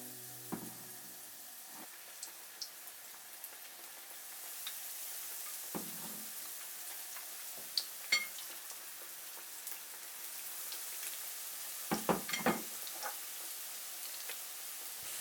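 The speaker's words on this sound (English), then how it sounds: "Gently put it into the oil." Apple slices coated in batter frying in hot oil, a soft continuous sizzle and crackle with scattered pops and a few louder bursts as pieces go in, no voices.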